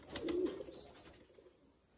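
Sialkoti and French pigeons give a short close coo near the start, then the sound fades into quiet room tone.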